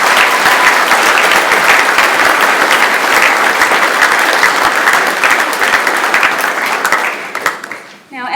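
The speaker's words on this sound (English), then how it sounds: "let's applaud her." Loud, dense audience applause at a school speech night and prize-giving, sustained for about seven seconds before tapering off, with a voice beginning at the end.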